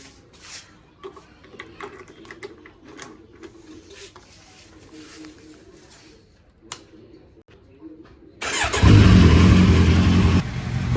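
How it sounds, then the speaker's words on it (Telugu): Kawasaki Z900 superbike engine cold starting: after a stretch of quiet background with scattered small knocks, the engine catches near the end and runs loud and steady at close range. "ఇప్పుడైతే దీన్ని అయితే కూల్ స్టార్ట్ చేద్దాం."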